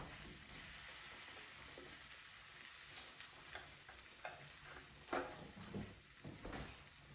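Tortilla pizza frying in a pan on a stovetop, a faint steady sizzle with occasional soft scrapes and stirring clicks, heard close and alone.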